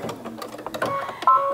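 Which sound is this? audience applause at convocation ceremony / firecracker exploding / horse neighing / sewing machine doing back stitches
sewing machine doing back stitches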